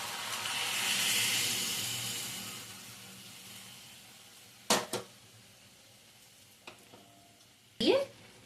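Milk is poured over Dehradun rice for polao in a hot pan, giving a soft sizzling hiss that swells and fades over a couple of seconds. Scattered knocks and scrapes of stirring follow.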